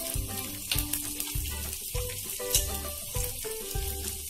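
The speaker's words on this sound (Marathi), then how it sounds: "थोडं वेळ चांगलं तेलामध्ये परतून घ्यायचे." Finely chopped ginger and cumin seeds fry in hot oil for Kutchi dabeli, giving a bright crackling sizzle that surges in regular pulses as the pan is stirred, with faint tonal background sound.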